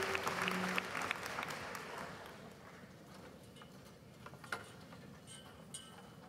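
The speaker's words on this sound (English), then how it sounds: "Please give a round of applause for our doctoral graduates." At a university graduate school of education commencement, the crowd applauds doctoral graduates: a broad round of clapping that starts fairly strong, then fades to scattered, distant claps and faint hall noise.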